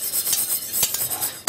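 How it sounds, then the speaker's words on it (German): Cheese sauce being stirred in a pot, a spoon scraping and clinking against the metal in steady close strokes, with a sharp clink at the end. "Immer fest rühren, bis es schön glatt wird."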